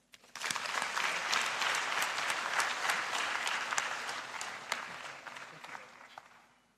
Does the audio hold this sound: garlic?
no